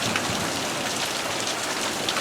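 Heavy thunderstorm rain pours down in Prescott, Arizona, a dense, steady hiss of drops hitting surfaces, loud and continuous throughout with no voices and no clear thunderclap.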